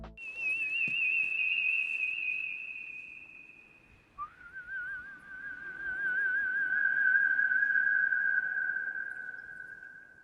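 Human whistling for The Last of Us, a steady sustained high tone with slight wavering, a brief break, then a lower held whistle with trills at the start, clear and alone.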